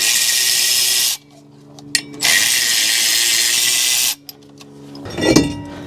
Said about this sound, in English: And then we can pull these bolts out of here.